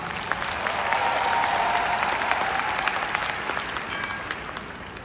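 A large audience at the Nu Skin Live convention in Salt Lake City applauds steadily, a dense, even wash of clapping that holds at a moderate level throughout, with some faint crowd murmur beneath.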